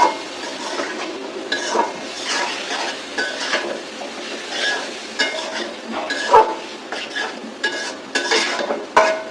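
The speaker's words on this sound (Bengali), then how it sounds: "অনেকগুলা পেঁয়াজ অনেকগুলা চিংড়ি দিয়ে করলাটা ভাজি করতেছি আমি" Bitter gourd fries with shrimp and onions in a pan, a close sizzle broken by frequent scraping and clattering of a utensil being stirred against the metal.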